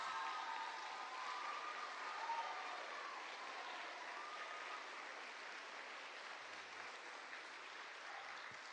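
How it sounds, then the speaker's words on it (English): An audience applauds military veterans and service members standing at an event, a steady, even wash of many hands clapping that holds for the whole stretch at a moderate distance and fairly low level. "Big round of applause."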